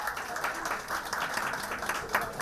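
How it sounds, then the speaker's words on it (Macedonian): Audience applause for Mark De Jong, head chef at the Kanyon Matka restaurant, presented at a food-industry panel: a steady, dense wash of many hands clapping that holds at an even level throughout, with no voices on top. "еден аплауз за Марк Де Јонг"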